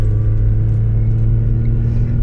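A modified Toyota Mk2 car's engine pulls under acceleration with a deep, steady rumble and droning harmonics, heard close and loud, continuous without a break and with no talk over it.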